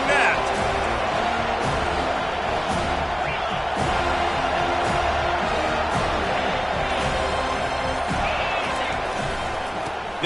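Stadium crowd at an NCAA football game: a dense, steady roar of cheering that fills the whole stretch, with a commentator's voice talking over it.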